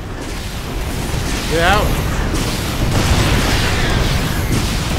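Explosions go off during StarCraft 2: Wings of Liberty, dull booms and bursts rolling under a game voice and speech, growing louder midway and holding steady to the end.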